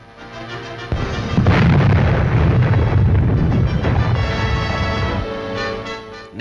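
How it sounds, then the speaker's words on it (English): A big dump of explosive material is blown up at Hungnam port, a loud, deep, rumbling blast that rolls on for several seconds before fading out, heard with no voices. "A big dump of explosive material goes off with a bang."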